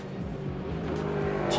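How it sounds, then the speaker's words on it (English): Race cars at Sepang International Circuit in a Supercar GTC, Cayman GT4 and TA2 qualifying session, engines roaring loudly through a tight corner with tires squealing in sustained screeches. "those tire screeches"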